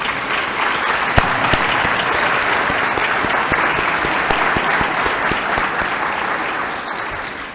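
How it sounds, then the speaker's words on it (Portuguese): Sustained audience applause fills a hall during a formal commemorative session of the 25th of April anniversary, steady and loud from many hands, with sharp individual claps standing out and no talking. "acho que merecem um forte aplauso pela presença que aqui está"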